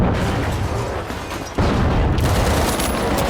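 Rapid, continuous gunfire in the shooter game The Finals rattles loudly, with a brief lull before the barrage resumes at full force.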